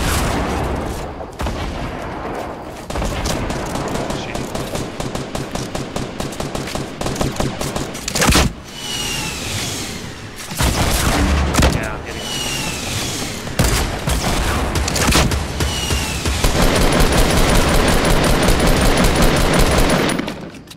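Rapid video-game gunfire in Fortnite, dense bursts of shots running almost continuously for about twenty seconds, loud and close, with brief pauses between volleys.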